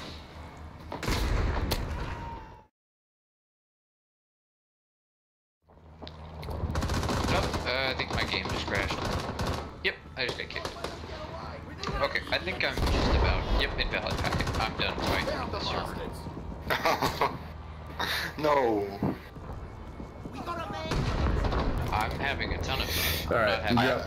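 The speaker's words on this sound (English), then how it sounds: "Enemy fire." Gunfire in a military video game, dense bursts of automatic fire and heavy booms rattling on and off, broken by a short silence near the start, with voices talking over the shooting.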